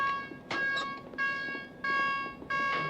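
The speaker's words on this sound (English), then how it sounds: "Sound the general alarm." Submarine general alarm sounding for battle stations submerged, a harsh repeating electronic buzz in three long pulses with short gaps, loud and close.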